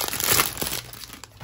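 Stuck plastic packaging from a Hobonichi planner cover being torn apart, a loud close crinkling and ripping burst that fades into lighter rustling.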